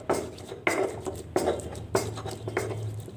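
Stone mortar and pestle pounding spice paste for crispy battered fried tempeh, four or five sharp, evenly spaced thuds with scraping patter between them, close up and with no voices.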